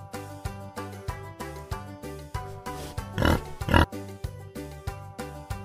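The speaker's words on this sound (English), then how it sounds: "Pigs." A farm pig oinks and snorts in a rhythm of short grunts, with two louder squeal-like bursts near the middle, over a repeating musical backing.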